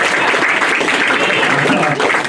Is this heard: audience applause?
yes